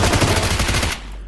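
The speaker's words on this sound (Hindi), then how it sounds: "अब गोली चल रही होती है आगे पे" Rapid automatic gunfire in the battle royale game BGMI, a dense burst of close, loud shots that cuts off abruptly near the end, with no voices over it.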